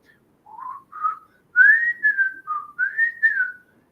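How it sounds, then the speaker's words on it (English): Someone whistles the Andy Griffith Show (Mayberry) theme: a clear, close, solo melodic whistle of several short rising and falling phrases over about three seconds, with no talking. "whistling the Andy from Mayberry theme song"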